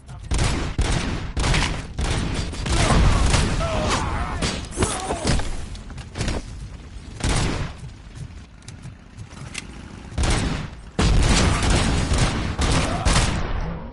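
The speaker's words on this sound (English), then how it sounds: "Throwing firecracker!" Firecracker explosions in the RoboCop video game, loud sharp bangs and crackling bursts going off repeatedly in quick succession with short gaps, game voices faintly underneath.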